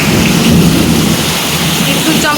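Heavy rain pours down steadily during a nighttime thunderstorm, with a dense, loud roar of rainfall and low rumbling thunder throughout, indoors near a leaky room.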